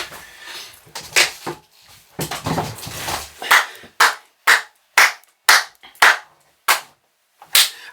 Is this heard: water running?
no